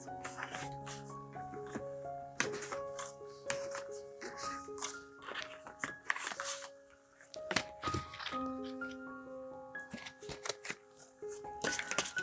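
Tarot cards are shuffled and drawn in a series of soft, close riffles and slaps, mixed with intermittent gentle chime-like tones in a quiet setting.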